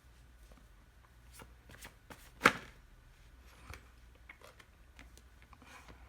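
Tarot cards are shuffled by hand in a quiet room, giving soft, irregular riffling and tapping with one sharper slap partway through and no talk.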